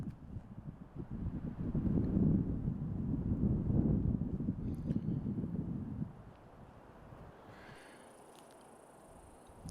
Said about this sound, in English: Late in the day, the wind came up here in this part of Flagstaff.